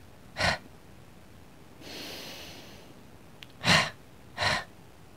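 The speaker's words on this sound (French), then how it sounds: "Je fais entendre la respiration." Someone doing a Pilates leg exercise breathes audibly in a studio class: a sharp exhale, a softer drawn-out breath, then two more forceful exhales, close and alone without talk.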